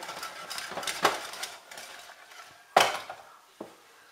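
Eggs for a sole stuffing are mixed in a bowl with a utensil, giving light clinks and scrapes with a few sharper knocks against the rim, close up and uneven in rhythm.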